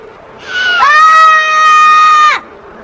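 A person lets out a loud, piercing scream at a cliff edge in the 2018 film The Island, one sustained cry of about two seconds that rises sharply and cuts off.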